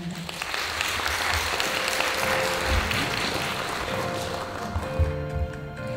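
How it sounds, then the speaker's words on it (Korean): An audience at an academic symposium on landscape architecture claps to welcome a speaker, a steady moderate wash of applause lasting several seconds at even loudness. "큰 박수로 맞아주시기 바랍니다"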